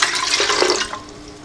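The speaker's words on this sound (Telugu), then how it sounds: "వాటర్ వేస్తున్నాను." Water is poured into an idli steamer pot while making junnu, a short, loud gushing splash that fades quickly, with no voices.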